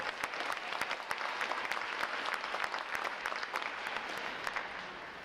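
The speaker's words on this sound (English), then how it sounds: "how about another round of applause for our unit and individual award recipients" A crowd at a U.S. Navy boot camp graduation applauds unit and individual award recipients, with sustained, fairly distant clapping that carries sharp individual claps throughout.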